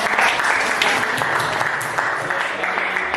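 A seated class audience applauds after a group presentation, a steady crowd clatter of many hands lasting the whole stretch, fairly close, with a few sharper individual claps standing out.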